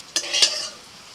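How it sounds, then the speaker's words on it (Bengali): Tender neem leaves fry slowly over low heat in a pan, and a spatula gives two quick scraping stirs over a soft sizzle, then a faint trailing hiss. "অল্প অল্প জালে আর এরকম নাড়াচাড়া করতে করতে ভাজতে হবে।"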